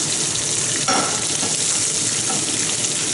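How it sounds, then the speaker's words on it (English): Fish fillet frying skin-side down in olive oil in a hot pan, a loud continuous close sizzle with a brief crackling burst partway through. "we're cooking here in olive oil, but you don't really want butter in here because it'll burn before the fish gets crispy"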